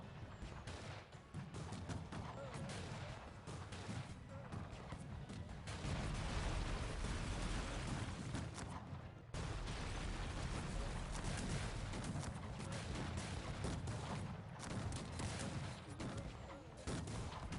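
Dense, continuous musket volleys and battlefield gunfire from the strategy game Cossacks 3, roaring steadily and loudly throughout with overlapping shots and no clear gaps.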